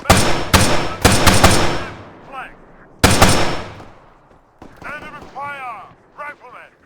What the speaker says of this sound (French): mitraillettes.